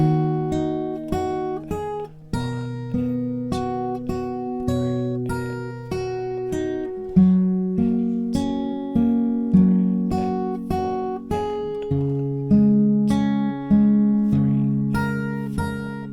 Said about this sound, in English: And the second line in total will sound like this.